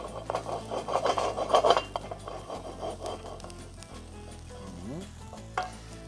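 Garlic and onion sautéing in olive oil in a pan, a steady close sizzle with stirring and scraping that swells midway then settles, with low background tones underneath.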